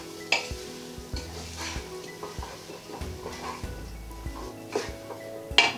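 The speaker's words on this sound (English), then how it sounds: "We're just going to give them a quick stir." Beans stirred in a frying pan for Cajun rice and beans, a soft sizzle under intermittent scraping and clinks of a utensil against the pan, fairly quiet with sharper metallic taps at start and end.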